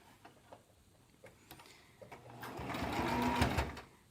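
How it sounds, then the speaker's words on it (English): Sewing machine basting a fabric strip onto the pleats of a face mask, starting with scattered ticks and clicks and then rising into a steady, close whirring run of stitching. "I'm going to baste that in place."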